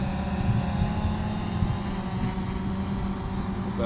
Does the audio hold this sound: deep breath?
no